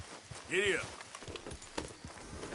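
Horse hooves clip-clop in Red Dead Redemption 2 as a steady, moderately close walking rhythm, with a short voiced horse call and some speech mixed in.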